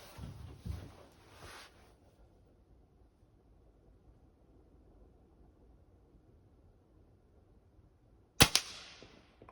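Recoilless airgun shots at targets: a sharp crack at the start with a short echoing tail, quiet air, then a second sharp report near the end, fairly close and loud.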